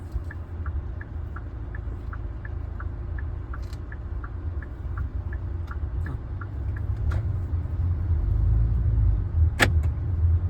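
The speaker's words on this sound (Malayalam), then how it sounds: "ഒരു റൈറ്റ് ഇൻഡിക്കേറ്റർ ഇട്ട് കൊടുത്തേര്" Right turn indicator ticking inside a Kia Carens automatic, a steady run of evenly spaced soft clicks over the low hum and rumble of the car's cabin and road noise.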